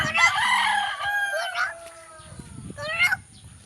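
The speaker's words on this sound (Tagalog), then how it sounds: "Ang kurok ang manok." A rooster crows outdoors in an overcast, rainy morning backyard, one loud drawn-out crow followed by a second shorter call, with a steady high insect-like whine beneath.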